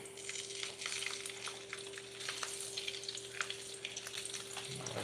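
A sausage fries in a pan with a steady, close crackling sizzle and scattered pops, backed by a constant low electrical hum throughout.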